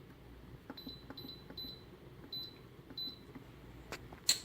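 Instant Pot pressure cooker buttons beeping as pressure cook is set to 8 minutes, heard as a series of short, faint electronic beeps in a quiet kitchen.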